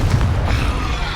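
Confringo explosive spell cast in Hogwarts Legacy, a short, loud, booming burst with a heavy low rumble that fades briefly, no voices.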